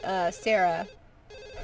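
A telephone rings twice in the Sims 1 video game, two clear tonal bursts followed by a quieter third tone, with a voice speaking briefly between rings.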